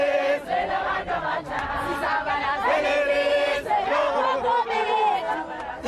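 Along the road from Mthatha Airport to Qunu, a large crowd greets Nelson Mandela's coffin with loud, sustained cheering and ululating chants that rise and fall in waves and fill the whole scene.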